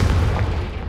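A booming in-game explosion from the Confringo blasting spell in Hogwarts Legacy, a loud, dense low rumble that fills the moment without a clear separate attack.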